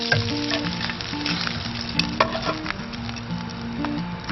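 Fish frying in a pan of oil and butter at a catch-and-cook camp gives off a steady, dense sizzle with fine crackles and occasional soft pops, close up and continuous, with no talk.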